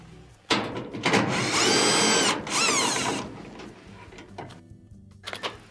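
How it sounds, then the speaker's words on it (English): A power drill backs out the 2 1/4-inch screws at the bottom of a Whirlpool dryer's front top panel: short whirring bursts rise and stop, close by, between brief rattles and handling noise. "remove the 2 1/4-inch screws at the bottom"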